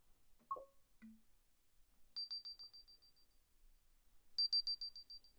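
A Roku Ultra 2022 remote's finder sounds two bursts of rapid high-pitched electronic beeps, a few soft clicks and thumps ahead of them, in an otherwise quiet room.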